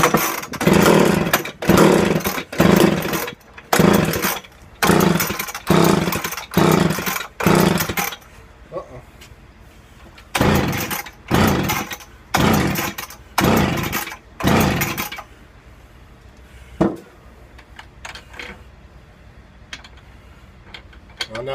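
A McCulloch chainsaw engine with a freshly rebuilt carburetor and the choke left out fires and runs in loud, close, repeated revving bursts, then drops to faint intermittent sputters and clicks.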